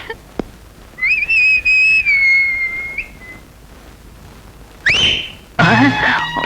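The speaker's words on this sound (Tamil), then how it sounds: "என்னடா விசில் விசில் எல்லாம் பொறி பறக்குது?" A person whistles a sustained, wavering tune in a Tamil feature film scene, loud and close for about two seconds, followed later by a sharp bright burst of sound, with no talking over it.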